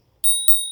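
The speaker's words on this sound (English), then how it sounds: "And listen to the little bell." The small bell on a VeeGo fat tire e-bike rings twice, each a bright, clear ding that rings on and fades slowly, close by and alone in the quiet.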